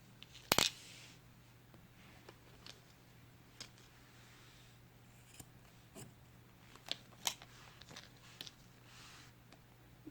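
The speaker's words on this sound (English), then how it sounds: "we can cut our yarn" Scissors snip crochet yarn in a few faint, sharp clicks, one distinct cut standing out early among quieter handling ticks over a low steady hum.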